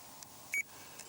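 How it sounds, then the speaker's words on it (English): A fishing bite alarm on a pike rig by a river gives a single short electronic beep, faint against quiet outdoor background, with a couple of softer ticks nearby. "I'll just turn the alarm off again because it's annoying."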